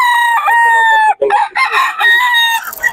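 A rooster crows in two long, harmonically rich calls with a brief clucking break between them, close and loud. The bird is a banded early-bird fighting cock from Batangas, heard at a fowl seller's.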